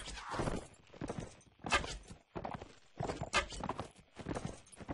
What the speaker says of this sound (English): They have good horses.